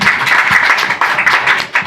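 Applause from the audience at a book launch for Santiago Trancón's Confesiones de Don Quijote, a steady dense patter of many hands clapping for about two seconds without pause, fairly loud and close.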